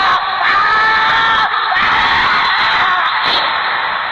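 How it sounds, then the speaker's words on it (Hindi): A man in a horror audio drama lets out a long, loud, piercing scream that sustains for several seconds, with brief dips in intensity, and no one speaking over it. "कुछ देर बाद लेखक की एक जोर से चीख सुनाई देती है।"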